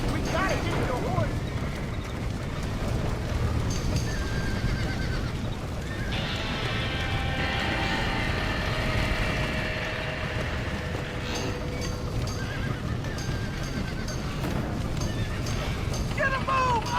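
A horse whinnies amid steady galloping hooves and rumbling background noise in Red Dead Redemption, with voices talking over the action.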